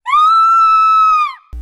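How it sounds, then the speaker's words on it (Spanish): A woman's loud, sustained high-pitched scream from inside a house in a neighborhood courtyard, one long cry lasting over a second before cutting off, followed by a brief low thump. "escucharon a Doña Florinda dar un fuerte grito en su casa"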